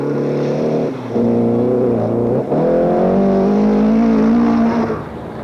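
Rally car engine labouring loudly through mud on the Kenya Safari Rally, early 1980s, a steady strained drone with shifting revs and a brief dip near the middle before climbing again, close and continuous.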